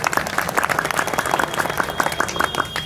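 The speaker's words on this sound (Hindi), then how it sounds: "सबसे पहले आप सभी लोग अपने आप के लिए जोरदार तालियां होंगे।" An audience at a mall inauguration in Narpatganj, Araria, Bihar claps in a dense, brisk burst of applause with many hands, close and lively throughout.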